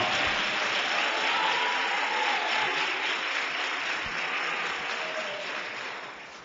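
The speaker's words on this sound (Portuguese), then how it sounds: "Dá um salve de palmas para ele bem forte." Sustained applause from a crowd at a religious protest service, a dense, steady clapping wash that holds loud throughout and fades slightly toward the end, with no talking over it.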